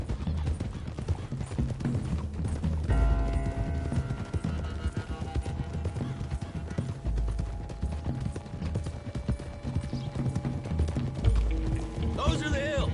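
Horses gallop in the video game Red Dead Redemption 2: steady, rhythmic hoofbeats drum throughout at a moderate level, beneath sustained musical tones and occasional low talk.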